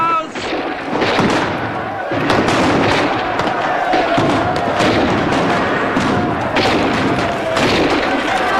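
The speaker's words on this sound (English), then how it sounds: "Continue firing, soldier!" Dense gunfire and booming blasts from a battle scene in a 1986 film. The firing is loud and continuous, with crowd noise and shouting voices mixed underneath.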